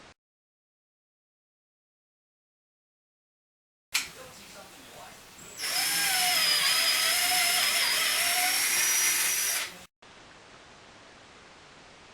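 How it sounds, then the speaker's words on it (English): A drill bores a shallow hole into wood for shelf support pins in a closet organizer tower, a loud steady whine lasting about four seconds after a quiet start, then cutting off abruptly. "a piece of masking tape on the drill bit so I don't go all the way through the wood"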